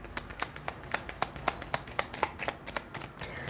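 Tarot cards being shuffled by hand during a reading, a quick run of crisp riffling slaps and flicks in an irregular rhythm, close and fairly quiet with no talking.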